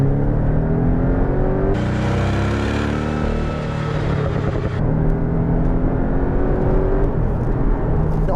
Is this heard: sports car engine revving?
yes